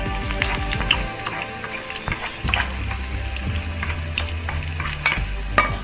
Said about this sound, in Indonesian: Berikutnya yaitu tumis bumbu. Masukkan bumbunya, bawang merah dan bawang putih.